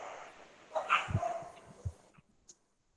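A dog barks close by in a burst of several quick, loud yaps with a whimpering edge, then one short faint yip after a pause, with no talking.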